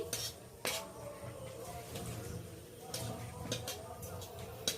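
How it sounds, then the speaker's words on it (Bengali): A spoon stirring cloves and cracked green cardamom tempering in a pan, with soft metallic scrapes and light clinks of utensil against cookware, quiet and close. "হালকা ভাবে আমি একটু এদিক ওদিক করে নেড়ে নিচ্ছি।"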